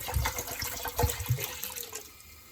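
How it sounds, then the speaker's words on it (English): A ceramic kitchen sink rinsed with tap water, with uneven splashing and a few louder knocks of water hitting the basin, close and fading toward the end, with no talking. "If you've got a ceramic sink like we have, kind of wash it straight away."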